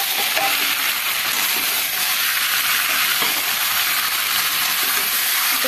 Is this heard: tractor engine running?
no